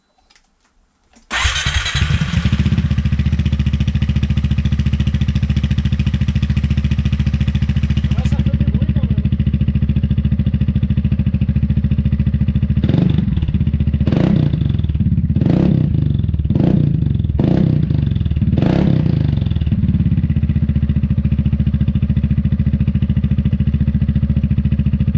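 A Gilera MP3 500 scooter fitted with a Dominator exhaust starts up with a sharp burst, then idles loudly and steadily before several quick throttle blips rev it up in succession, close by.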